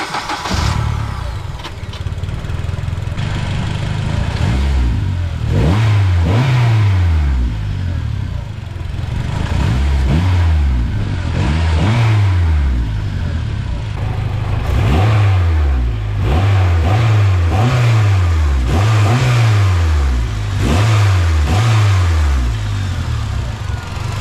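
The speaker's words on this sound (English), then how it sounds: "I'm gonna go ahead and turn on the car as well too, just to show you how much it moves on acceleration" A 2003-2011 Honda Element engine with upgraded motor mounts and diff mount starts, then revs repeatedly, each rev rising and falling in pitch, loud and close with short idle gaps between.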